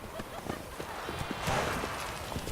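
Roach the horse gallops in The Witcher 3, hooves thudding in a quick rhythm under a bed of game ambience, with a voice briefly speaking over it.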